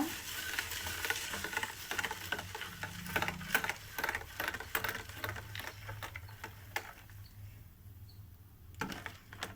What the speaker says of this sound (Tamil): சேர்த்துட்டு ஒரு விஸ்கு வச்சு அப்படியே கிண்டி விடுங்க.